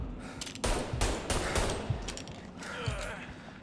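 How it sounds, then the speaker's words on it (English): Gunfire in the crime video game Mafia: Definitive Edition, several rapid close shots in a short burst over a busy game background. "are we just shooting him?"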